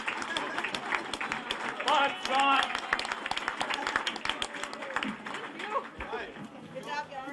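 An audience at a tribute awards event cheers and claps for award winners, a steady patter of applause and crowd noise running under a person talking throughout.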